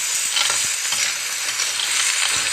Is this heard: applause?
no